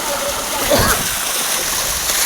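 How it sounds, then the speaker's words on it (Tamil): Water flows and splashes at a Kerala teak museum and garden, a steady rushing wash with a brief louder splash, partly under a nearby voice. "இப்போ தண்ணி அப்படியே வந்துட்டு பாருங்க"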